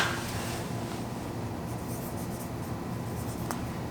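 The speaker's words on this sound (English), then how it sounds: "I'm going to write on it quick." A pen or marker writes on a sealed Mylar food storage bag, a close, steady scratchy rubbing on the crinkly plastic surface that runs for a few seconds with no talking.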